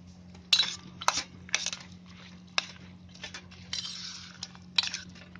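A spoon clinks and scrapes against a dish while mixing curd into cooked quinoa with salt and coriander, giving irregular sharp taps among soft, wet stirring sounds under a low steady hum.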